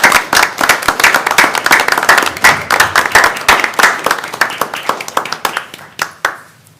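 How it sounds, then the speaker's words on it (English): A room at a city council meeting bursts into a round of dense, loud hand clapping for the mayor, holding steady for several seconds before thinning out and fading at the end. "Round of applause."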